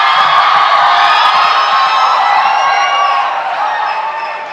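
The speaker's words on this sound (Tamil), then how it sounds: "சாருக்கு ஒரு பெரிய கைத்தட்டல் கொடுத்துருங்க." A large college audience at a Tamil speech event gives the speaker a loud, sustained burst of applause mixed with cheering, steady throughout and easing slightly toward the end.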